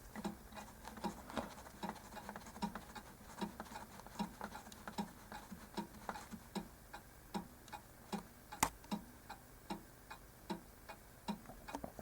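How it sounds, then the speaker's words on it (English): Steady ticking of a Junghans striking clock running out of beat, the ticks coming at slightly uneven intervals over twelve seconds, close but quiet against a faint background hiss, with one sharper click partway through. "Now this clock is out of beat with itself"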